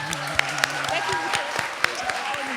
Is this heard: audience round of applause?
yes